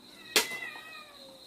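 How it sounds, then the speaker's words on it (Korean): Cats meowing near a wood-fired grill of smoked whole pork belly, one sharp loud meow followed by a fainter trailing cry, close by with quiet outdoor background. "고기 냄새 나니까 쟤들 저러네"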